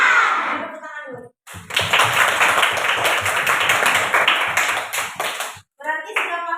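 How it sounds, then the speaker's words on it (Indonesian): A class of children claps their hands together in a classroom, forming a dense burst of rapid overlapping claps that lasts several seconds, with a teacher speaking before and after. "Tepuk tangan dulu."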